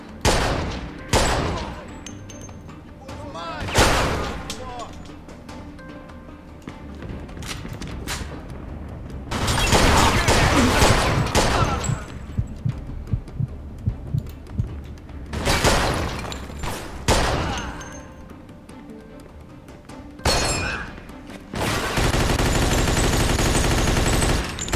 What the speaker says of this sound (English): Fucking suppressing fire, dude.